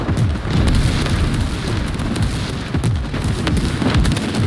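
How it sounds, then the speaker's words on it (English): Continuous rumbling booms and blasts from an airstrike in a World War 3 video game, with dense low-end explosions rolling one after another at steady loudness, no voices. "Friendly airstrike incoming."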